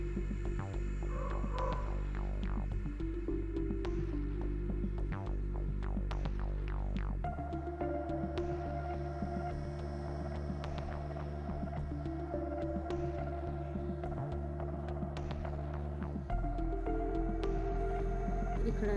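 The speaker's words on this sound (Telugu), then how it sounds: "ఇలా డబుల్ స్టిచ్ వేసుకుంటున్నానండి, సింగిల్ అయితే తొందరగా పోతుందని." A domestic sewing machine runs steadily as it double-stitches a blouse seam made from an old saree, giving a continuous motor hum and throbbing needle rhythm with brief pauses and shifts in pace, close and moderately loud, with no talk.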